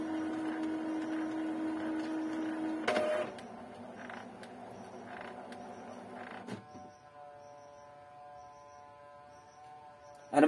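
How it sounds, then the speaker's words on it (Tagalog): An Epson L3150 inkjet printer runs close by, its motor whirring in steady tones that shift pitch after a clunk, then settle into a lower mechanical hum with faint periodic ticks; no one speaks. "The printer is still responding."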